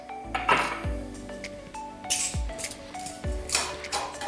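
Fresh ice cubes drop and clink into a salt-rimmed glass for a raspberry paloma cocktail, a few separate close knocks spaced about a second apart with a soft rattle between.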